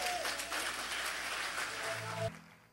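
Applause from a church congregation fills the space as a steady, dense clatter of clapping, loud and continuous, then cuts off abruptly near the end.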